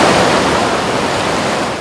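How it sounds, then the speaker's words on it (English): The rapids and powerful waves of the Zambezi River roar as a loud, dense, continuous rush of churning water with no pauses. "The Zambezi River has stunning rapids with powerful waves which cascade down the Victoria Falls"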